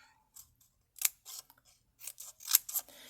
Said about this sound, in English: And then you just keep cutting all these little pieces.